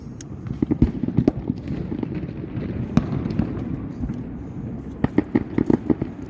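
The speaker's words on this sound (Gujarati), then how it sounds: "આ એક બોમ્બ લઈ લે અહીંયાથી ચાલ." Diwali firecrackers bursting in a series of sharp, loud bangs, irregularly spaced with a cluster near the end, over a constant crackling, rumbling backdrop of distant fireworks.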